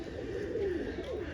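A pigeon perched on its net coos softly nearby, a low rolling call repeated in a couple of phrases over quiet background hiss.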